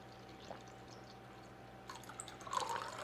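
Filtered water, cold from the fridge, is poured in a 375-gram measure for sourdough, starting as faint drips and building into a short, close trickling pour near the end.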